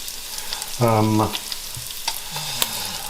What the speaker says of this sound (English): Once the pancetta has started to boil,